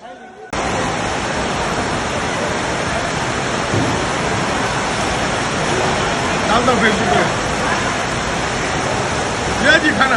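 Rainwater rushes through a flooded wedding hall after its ceiling collapsed, making a loud, steady broadband gush that starts abruptly and continues unbroken, with brief speech and clatter over it.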